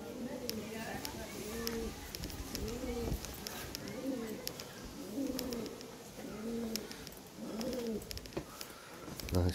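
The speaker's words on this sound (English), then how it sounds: "Nice pigeon." A pigeon at Knaresborough Castle gives a series of about six soft, rhythmic coos, fairly close, with faint voices and small knocks in the background.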